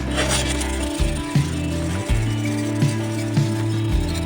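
A machete (golok) blade is rubbed back and forth to sharpen and polish it, making a steady, loud grinding rasp with regular stroke changes about every second.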